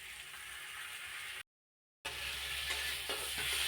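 Chopped tomato sautés with turmeric and chili powder in a hot pan, a steady loud sizzle broken by a short silence before the frying resumes, with faint stirring scrapes.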